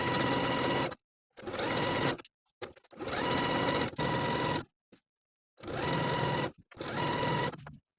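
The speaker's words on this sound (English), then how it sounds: "I can sew the neckband to the neckline using a lightning bolt stitch and a 1/4 inch seam allowance" A home sewing machine attaches a neckband to a tank top neckline with a lightning bolt stitch, running in five or six close bursts of about a second each, separated by short pauses.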